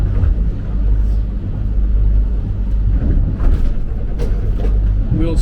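A boat engine at moderately low revs drones steadily as the hull slams through easterly seas, a loud low rumble with occasional thumps and splashes, no talk.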